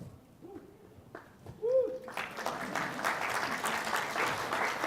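Applause at a corporate data conference presentation breaks out partway through, a broad crackling of many hands clapping that swells and carries on steadily after a few quieter bird-like calls.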